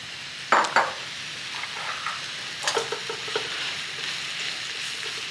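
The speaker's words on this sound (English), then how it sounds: "So in go the mushies." Mushrooms drop into a pan that has just cooked pancetta crisp, a sharp clatter and hiss followed by a quiet continuous sizzle with occasional stirring scrapes, close by.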